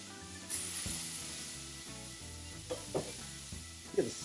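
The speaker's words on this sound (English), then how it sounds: "All right, flip these burgers over." Wagyu burger patties sizzle steadily on a hot griddle after flipping, a low continuous frying hiss with a few soft scraping taps from a spatula, and no voices.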